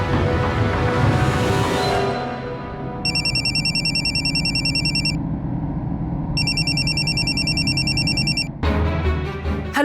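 A telephone rings with an incoming call during a domestic scene in a Marathi TV serial. Two separate bursts of electronic ringing sound over steady background music, and the ringing then stops.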